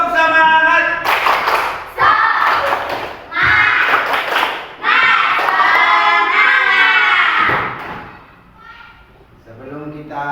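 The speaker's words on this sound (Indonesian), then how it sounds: "Tepuk semangat." A class of children in a lesson performs a rhythmic spirit clap, chanting loudly in unison in bursts punctuated by sharp, synchronized claps and thumps, with a brief pause before the chant resumes.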